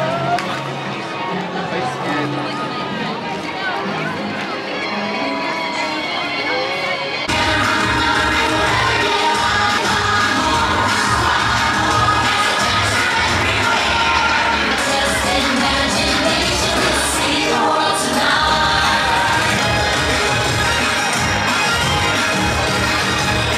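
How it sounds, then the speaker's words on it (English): A dense New Year's crowd at Walt Disney World fills the air with steady babble, shouts and footsteps, growing louder and closer after the first few seconds as people talk throughout. "So if anybody was wondering how the crowds are during New Year's"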